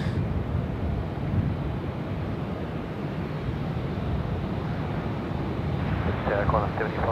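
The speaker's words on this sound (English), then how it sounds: "Qantas 73 making their way down there for a departure tonight as well" A Qantas airliner, Qantas 73 bound for San Francisco, departs at night from Sydney Airport: a steady, broad roar of jet engines with wind noise, continuous and moderately distant.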